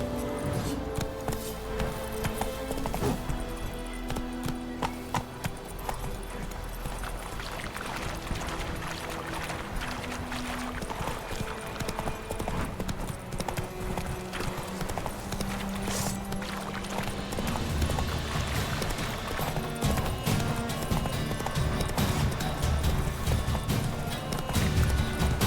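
Roach, a horse in The Witcher 3 video game, gallops with steady, rapid clip-clop hoofbeats, heard continuously under a full orchestral music score.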